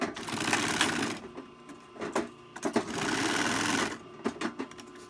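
A flatbed sewing machine stitches through a thick Hudson Bay wool blanket shirt sleeve, running in two sustained bursts with short whirring pauses and clicks between them, close and loud.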